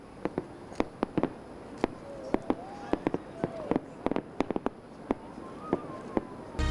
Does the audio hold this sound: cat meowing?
no